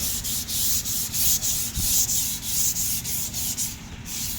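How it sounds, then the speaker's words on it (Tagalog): Steady back-and-forth rasping of sandpaper rubbed over a painted surface in an even rhythm, close up and continuous, with no voices. "dadaanan muna natin ang liha"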